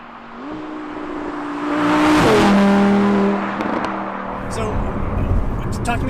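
A 2017 Audi R8 with a 540-horsepower V10 engine revs during a test drive, its pitch climbing and then dropping in a loud swell, while people talk over it inside the car.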